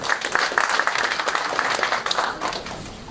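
Audience applause at a state forum with Senate candidates, a steady wash of clapping across the whole few seconds, fairly loud and continuous with no clear talk over it.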